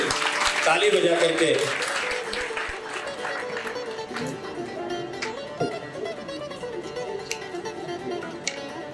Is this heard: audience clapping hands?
yes